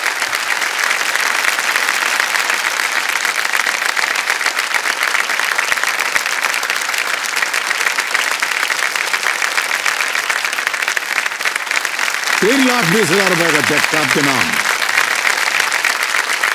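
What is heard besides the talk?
studio audience applause for a quiz show contestant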